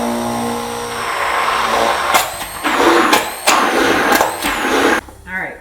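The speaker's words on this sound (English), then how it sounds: "I'm just going to blend until it's smooth" A kitchen blender whirs loudly while blending egg and cottage cheese for keto bagels, its motor revving up and dropping in several surges before cutting off near the end, with a voice briefly audible.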